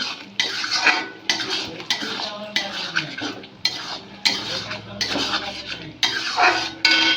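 A metal spoon scrapes and clinks against a pan as chili-sauced food is stirred in short repeated strokes, loud and close, with no talking.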